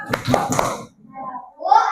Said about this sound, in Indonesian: Kasih tepuk hebat.